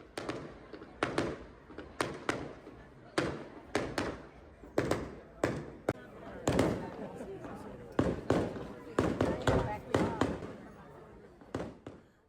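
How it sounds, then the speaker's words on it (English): Early 9 p.m. fireworks for children on New Year's Eve in Australia, watched from balconies: a dozen or more sharp booms burst at irregular intervals, with a crowd chattering and cheering underneath throughout. "everybody rushes to the balconies to watch the fireworks"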